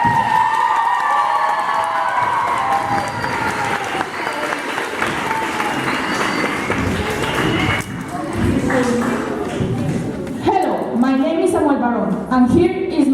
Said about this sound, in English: I'd like to have a really big round of applause for Mr.